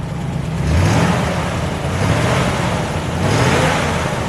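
A factory flathead V8 engine in a 1947 Ford Super Deluxe Coupe revs up and down in several rising and falling surges, a deep rumbling roar heard close up without talk.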